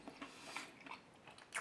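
Soft, close chewing and biting into a homemade XXL burger pizza with a thick double crust, quiet crunchy mouth noises coming in small irregular bursts with no talking.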